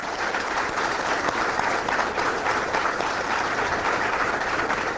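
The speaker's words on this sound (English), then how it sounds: "Let's give Tim a round of applause" A conference audience at a family justice center's tenth-anniversary celebration gives a full, sustained round of applause, a loud and steady clatter of many hands lasting several seconds with no talk over it.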